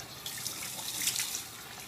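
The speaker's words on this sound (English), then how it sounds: "And just kind of splashing it all over my face." Cold water runs from a bathroom sink tap and is splashed up onto a face, a close, steady gush with soft irregular splashes, alone without talk.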